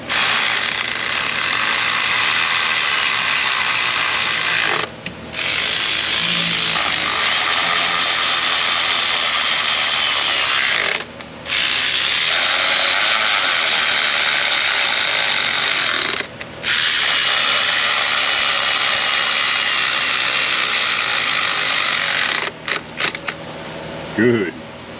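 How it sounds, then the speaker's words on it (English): A ratchet wrench works on a Ford 5.0 Coyote engine being repaired for a misfire, producing long runs of rapid, close metallic clicking broken by brief pauses, with scattered clinks near the end. "Now, where's my red ratchet?"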